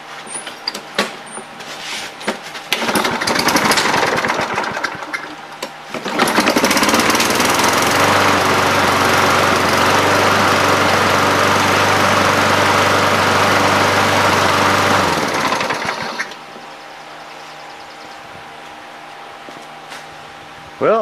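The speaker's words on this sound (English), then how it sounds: "Got another working mower." A salvaged walk-behind lawn mower engine catches and runs loud and steady for about ten seconds, then cuts out and dies when the handle is released, leaving quiet background noise.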